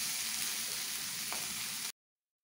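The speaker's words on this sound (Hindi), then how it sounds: "स्लोली फिश को टर्न करके दूसरा साइड भी फ्राई कर लूंगी।" Hilsa fish tail frying in hot oil, a dense, even hiss held close at low level, then cut off abruptly, with no talking.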